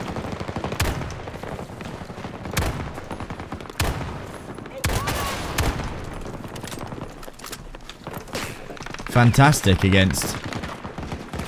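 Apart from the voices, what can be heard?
Desert Eagle .50 caliber gunshots in a video game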